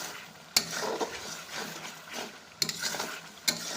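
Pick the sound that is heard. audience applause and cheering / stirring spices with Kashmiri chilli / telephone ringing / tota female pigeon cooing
stirring spices with Kashmiri chilli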